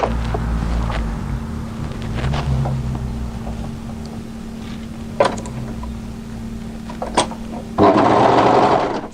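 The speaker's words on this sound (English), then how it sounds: "So sew a couple of stitches just to hold that into place." A sewing machine stitches a shoulder seam on the armhole side of a draped-front, shawl-collar hooded cardigan, humming steadily for several seconds with a few brief clicks before a louder burst of running at the end.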